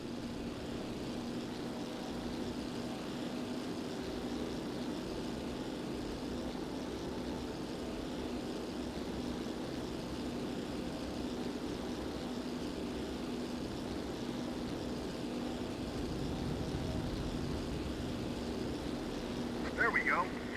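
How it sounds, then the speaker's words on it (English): A WWII propeller plane drones steadily overhead in the video game Damage Inc. Pacific Squadron, flying past the Ford Island control tower as a continuous, fairly faint engine hum with a brief clatter near the end. "Give us a flyby of the Ford Island Control Tower."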